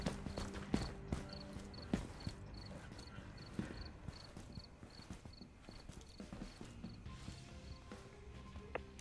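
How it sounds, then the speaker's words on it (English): Footsteps in a multiplayer shooter video game sound as quiet, irregular thuds and scuffs moving through a building hallway, faint under a repeating high electronic beep and scattered game noises. "I'm hearing some footsteps"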